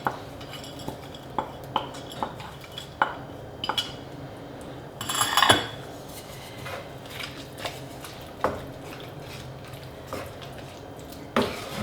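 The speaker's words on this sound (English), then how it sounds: "we're going to stir in the bacon, which is all lovely and crispy" Crispy bacon being stirred into leek risotto in a pan off the heat: repeated spoon clinks and scrapes against the pan, with a brief burst of louder scraping midway, close and with no talking.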